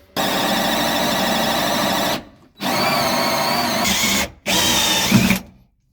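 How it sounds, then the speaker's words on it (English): A power drill whines loudly at steady speed, drilling through a floor in three long bursts separated by short silent pauses. "just going to drill a couple of holes through the floor here"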